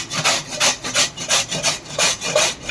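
A peeled pumpkin is grated by hand, giving close, steady rhythmic rasping strokes, about three per second, each a scratchy sweep repeating evenly with no voices.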